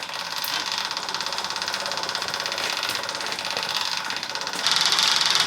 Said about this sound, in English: We got a working fuel pump. We might as well just pump out this old fuel